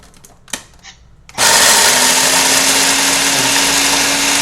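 Quiet knocks and handling noises come first, then a blender kicks on at full power to crush a crunchy topping ingredient, roaring loud with a steady motor whine that holds to the end.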